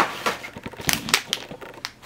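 An edible red cow (akabeko) treat is cracked open by hand, giving a quick run of sharp, brittle cracks and crunches close up, with no talking.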